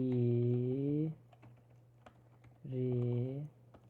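Computer keyboard typing during a Python coding exercise: quick, light clicks in a brief burst between two stretches of a person talking, close and fairly soft.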